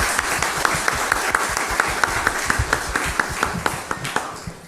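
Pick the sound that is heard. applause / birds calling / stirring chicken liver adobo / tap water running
applause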